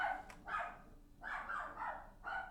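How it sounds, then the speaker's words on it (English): A dog barks at the postman, several sharp barks in an uneven run, fairly faint and somewhat distant, with no talking over them. "The dog was barking."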